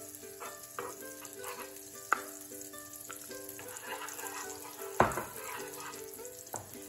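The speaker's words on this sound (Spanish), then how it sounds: "poner un poquito, cosita de nada de aceite, y enseguida nuestra mantequilla" Butter and a splash of oil sizzle steadily in a pan, a continuous close frying hiss with a few sharp pops and utensil knocks, over soft background music.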